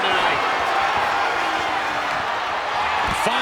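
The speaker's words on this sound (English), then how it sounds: "What a raucous crowd here tonight." Dense, steady roar of a packed arena crowd in the wrestling game WWE 2K25 during an ambulance match, loud throughout, with thuds and a commentator talking over it.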